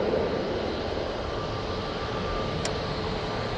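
An Airbus A320-200 airliner at Manchester Airport gives off a continuous, dense engine roar at close range, unbroken and steady from start to finish.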